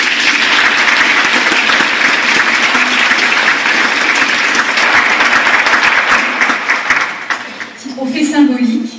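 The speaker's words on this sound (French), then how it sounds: "On peut l'applaudir." Loud, dense applause from an audience at a New Year greetings ceremony, many hands clapping steadily for about eight seconds before thinning out, with a voice starting to speak as it fades.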